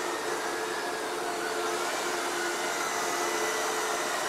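A Wltoys V333 quadcopter drone flies an automatic loop, its motors giving a steady, loud, high-pitched whirring buzz that holds even throughout, with no voices.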